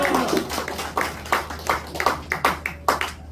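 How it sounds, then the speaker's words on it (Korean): A church congregation welcomes a pastor with rhythmic clapping, sharp claps falling in a quickening beat, moderately close, over a low steady hum. "박수로 맞이하겠습니다"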